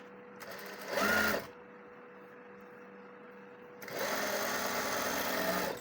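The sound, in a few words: sewing machine stitching kurti side seam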